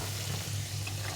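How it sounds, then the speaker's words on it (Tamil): Carrots, beans and cabbage sautéing in a pan, a dense continuous sizzle with a low steady hum underneath, close and even throughout. "நல்லா கழுவி கட் பண்ணி வச்ச கேரட், பீன்ஸு, கோஸ் வந்து இதில் போட போகிறேன். போட்டு நல்லா வதக்கணும்."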